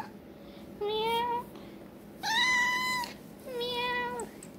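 Three drawn-out meows from a nearby cat, each lasting under a second and separated by short pauses, with no other voices.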